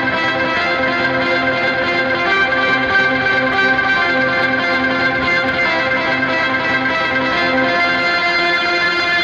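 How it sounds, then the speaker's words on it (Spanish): An electric guitar played through an octaver effect in a worship-style setting rings out in steady sustained chords, thick with doubled low tones and shimmering, reverb-washed overtones. It is loud and continuous, with no voice. "un octavador."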